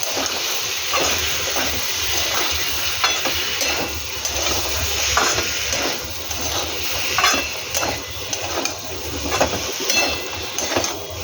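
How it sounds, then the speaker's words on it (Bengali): Cumin, coriander and turmeric powders being stirred in a hot frying pan with potato, a loud continuous sizzle and hiss with repeated scraping strokes of the spoon throughout. "এবার এটাকে ভালো করে নাড়বো।"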